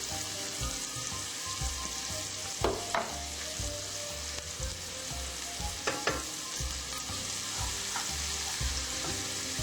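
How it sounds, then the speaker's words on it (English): Meatballs sautéing in a pan for spaghetti and meatballs, giving a continuous close sizzle with occasional scraping stir sounds and low rhythmic clatter, no voices. "you're just going to saute these until they're golden brown"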